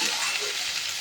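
Chunks of yam and potato fry with onion and garam masala in a pan for a Bengali yam curry, giving a close, steady, loud sizzle with no pauses.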